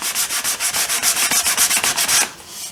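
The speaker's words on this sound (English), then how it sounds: "we're going to go ahead and get it all sanded down. I'm using some 220 grit." Dried wood putty is sanded by hand with 220 grit sandpaper in quick, regular back-and-forth strokes, about seven per second, close and scratchy, with no talk.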